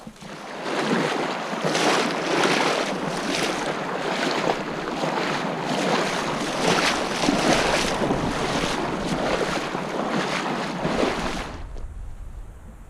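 A hiker wades through the Gila River, kicking up a continuous rush of sloshing, splashing water that pulses roughly with each stride against a wind-buffeted background, then cuts off abruptly near the end.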